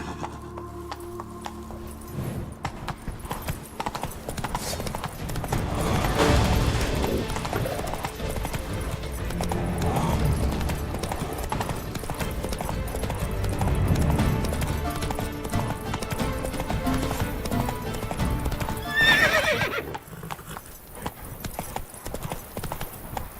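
Horse hooves clip-clop at a steady gallop rhythm through a Witcher 3: Wild Hunt game world, continuous and fairly loud with a brief whinny near the end, under game ambience and no talk.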